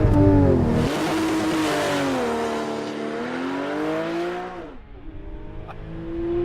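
A 2012 Porsche 911 Carrera S engine revs hard and climbs through high rpm, loud and close, then drops briefly and pulls again on a shift, with no talking.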